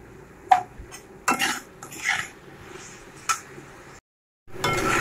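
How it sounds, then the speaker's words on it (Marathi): Modak coconut filling being sautéed with ghee in a pan: intermittent scraping and clinking of a spoon against the pan, a few sharp knocks, with faint background hiss and a brief silent gap. "आता तूप टाकून झालं की असं व्यवस्थित परतून घ्यायचं"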